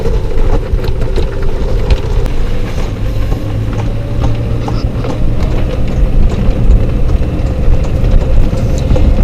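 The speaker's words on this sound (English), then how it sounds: "if you ride through the gravels, it picks them up, and that's what you're hearing when they hit the pavement." A golf cart with knobby tires rolls along a pavement in a riverside community, giving a loud, steady rumble with scattered small ticks as gravel picked up by the tires hits the ground.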